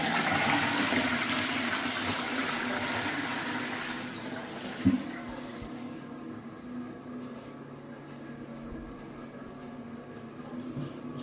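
A newly installed toilet flushes, a loud broadband rush of water that fades after a few seconds into a quieter refill trickle, with a faint knock midway and no talking.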